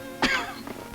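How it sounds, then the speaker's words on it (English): A man gives a single harsh, throaty cough that fades into a short rasp and a softer follow-up, close to the listener. "And this cough."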